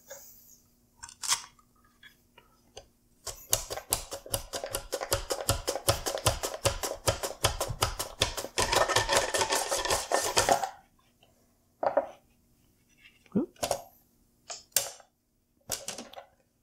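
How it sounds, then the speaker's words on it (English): A mandoline slicer with its guard slices a potato, fast rhythmic back-and-forth scraping strokes for about seven seconds, close and crisp, with a few scattered handling knocks before and after. "I'm going to show you how fast it is to cut a potato"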